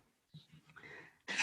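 After some soft breathing and vocal sounds, a single sharp sneeze bursts out at the end.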